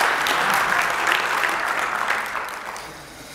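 A church congregation breaks into applause, a full, loud patter of many hands that holds steady and then gradually thins and fades toward the end.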